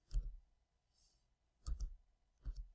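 Three separate computer mouse clicks at an uneven pace, close and crisp against a quiet background, with no talking.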